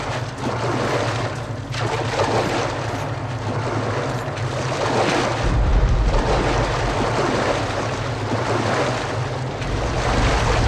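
Water waves wash and churn around a boat moving along a river in the video game Metro: Last Light Redux, a steady rushing surge with wind noise and a low rumble throughout.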